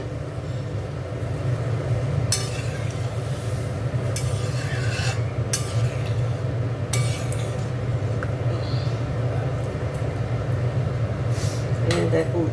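Metal clinks and clanks come from a pressure cooker being washed in a home kitchen as water is added, scattered knocks over a steady background hum, with a voice speaking at times.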